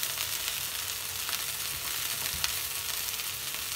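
Cluster beans fry in a pan with a continuous soft sizzle and crackle, quiet and even, and faint stirring scrapes now and then.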